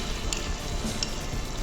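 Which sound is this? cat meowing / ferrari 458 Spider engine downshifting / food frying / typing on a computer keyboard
food frying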